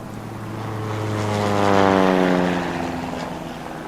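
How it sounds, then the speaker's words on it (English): Propeller airplane flying overhead at a safari attraction, its droning engine hum rising as it nears, peaking midway, then fading away with a falling pitch sweep. "that plane you hear up ahead is probably Warden Matua"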